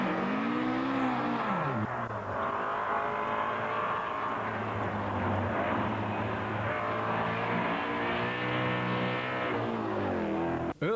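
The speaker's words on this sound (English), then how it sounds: "Auckland's Rex Alder is charging hard in his Toyota AE86, chasing down Ashton Wood." Toyota AE86 race car driven hard on a Targa tarmac rally stage in New Zealand, engine note loud and close, revving steadily with shifting pitch and gear changes through the whole stretch, no talk.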